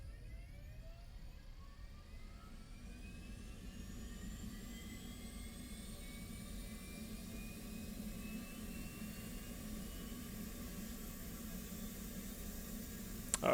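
Auxiliary power unit of an F/A-18C Hornet running in the DCS World flight simulator, a steady, even jet-like whine and rumble that holds constant for the whole stretch with no talking.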